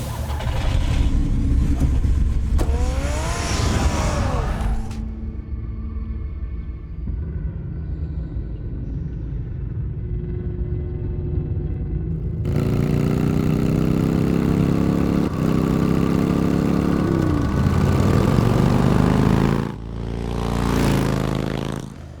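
Batmobile in a Batman video game, a low rumbling engine with grinding, scraping passages and shifting revs, sustained and loud with brief quieter gaps.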